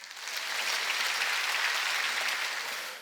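A church congregation at a Sunday service claps together in a sustained burst of applause, swelling quickly, holding steady, then tapering off over a few seconds.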